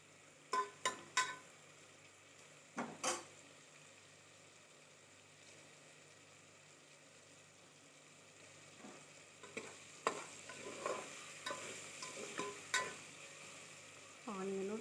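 Onion, tomato, green chilli and curry leaves frying in a pan, a faint steady sizzle broken by occasional stirring clatters and scrapes of a spoon.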